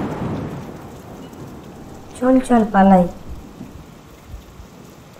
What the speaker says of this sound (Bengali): আরে বাবা, এই রে ঝড় বৃষ্টি আসছে।